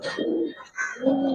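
Giribaz pigeons in a loft giving low, rolling coos, two or three close, clear phrases in quick succession with no talk over them.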